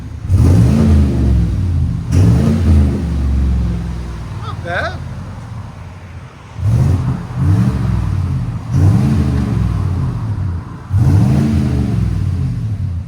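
Car engine revving through a Flowmaster exhaust, repeated throttle blips rising and falling in a deep mellow tone, loud and close, with people talking briefly between revs.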